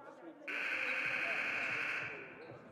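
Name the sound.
game buzzer at basketball game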